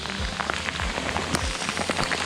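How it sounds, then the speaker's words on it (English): Pea-size hail pours onto the ground along a wilderness trail in the San Gorgonio mountains, a thick, continuous clatter of small pellets close by, with a few sharper individual impacts standing out. "Look at the ground. That's all hail. These are like pea size."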